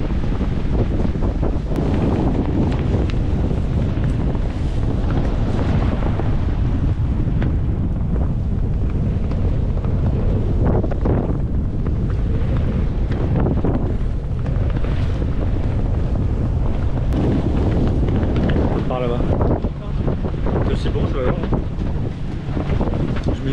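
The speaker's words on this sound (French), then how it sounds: "il y a 22 nœuds de vent" Strong wind of about 22 knots buffets the microphone aboard a motor boat at sea, its engine turning at 1800 rpm as it pushes at 4.5 knots through waves, a loud continuous roar with gusts throughout and brief voices underneath.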